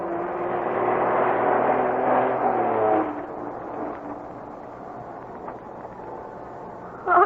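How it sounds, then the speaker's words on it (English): A slow-moving truck rolls down a narrow mine road as a radio drama effect, a steady low engine drone that swells for a few seconds and then eases off into a quieter rumble, heard alone without talk. "now Bobby and Harka have spotted a slow-moving truck coming down the narrow road from the mine"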